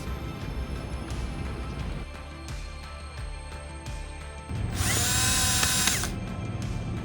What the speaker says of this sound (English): Now we're gonna drill in all of these holes.